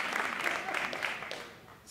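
Moderate applause from the audience at the City of Atlanta's inaugural Iftar dinner, a fairly even patter of clapping that thins and fades out toward the end.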